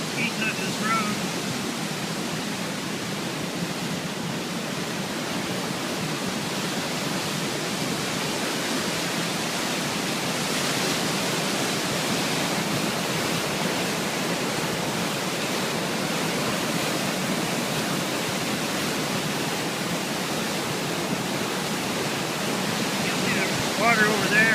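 Rushing floodwater from the 2013 Big Thompson flood roars in a loud, unbroken wash of noise near a damaged bridge and washed-out road, with faint voices now and then under the torrent.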